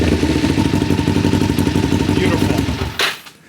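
A motorcycle engine revs hard and steadily with a rough, clattering drone, then cuts off abruptly near the end, leaving a brief quiet tail.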